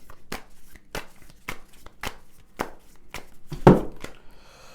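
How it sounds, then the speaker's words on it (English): Tarot cards being shuffled by hand, a steady run of crisp papery taps and riffles roughly twice a second, close and fairly quiet, with one louder slap near the end and no talk. "I'm just going to shuffle these cards."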